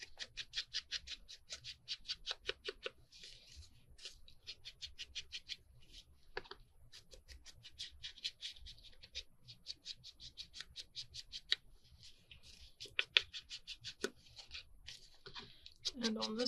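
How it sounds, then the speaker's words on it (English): Scissors snip along the tattered edges of paper in rapid bursts of crisp cuts, faint and close, with short pauses between runs and a quiet voice talking now and then. "Okay, now let's cut these edges."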